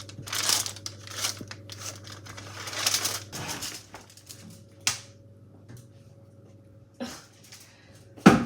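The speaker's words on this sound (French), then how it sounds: "Papier alu." Aluminium foil is crumpled and torn in a kitchen, with bursts of crinkling and ripping that come in uneven waves, then a few sharp isolated rustles over a steady low appliance hum.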